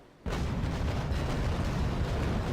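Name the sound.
ship cannon broadside firing in video game Naval Action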